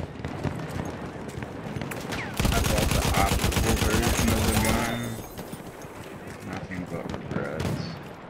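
Rapid burst of automatic fire from a rocket gun in Battlefield 1 multiplayer, a dense loud stream lasting a couple of seconds amid battle noise and other gunfire, with players talking.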